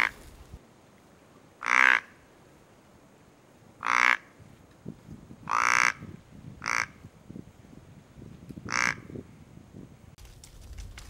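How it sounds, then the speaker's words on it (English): A deer grunt call with a reed tuned by a call builder for close range gives five short, throaty grunts at uneven intervals. The grunts sound near and fairly loud over quiet outdoor background noise. "Being a master call builder, James did a great job with the reed, getting it where it works close range"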